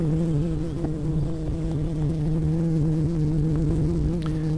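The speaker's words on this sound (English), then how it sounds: "bees want to communicate with one another with vibration, we're hearing that as a sound for our ears" A honeybee swarm cluster gives off a steady, dense buzz that hums continuously at close range, with no voices over it.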